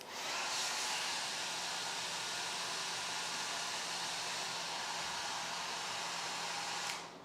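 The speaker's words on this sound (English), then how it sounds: "let's run this hair dryer one more time" Hair dryer powered by a BLUETTI AC200MAX power station, blowing a steady loud hiss of air from start to finish, then cutting off abruptly at the end.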